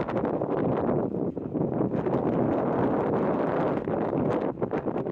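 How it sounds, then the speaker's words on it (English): Strong wind buffeting the microphone in a continuous rumbling roar, gusting unevenly throughout, on the coast at Teignmouth. "it's extremely windy"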